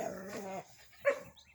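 Puppies give a short growl followed by a brief, quiet yip, close by but faint, in a short burst with pauses.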